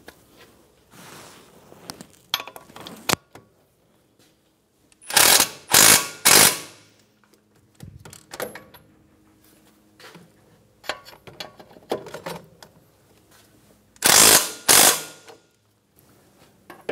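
Ratchet snugging bolts on a 2013-2017 Honda Accord front strut and spring assembly: several short bursts of rapid clicking, close and loud, separated by quieter handling clatter of tools and parts.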